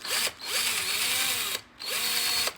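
A power drill removes shoulder bolts from a Traxxas 2WD Slash RC truck, loud and close, in two long whirring bursts with a short pause between them.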